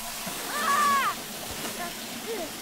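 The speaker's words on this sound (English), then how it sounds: "What if we try spraying the water?" A broad hiss of spraying water rushes throughout, with a short squeaky whistle-like tone rising over it and a faint second chirp later.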